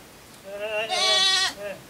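A single goat bleats loudly and close by, one wavering call lasting about a second in an otherwise quiet rural setting.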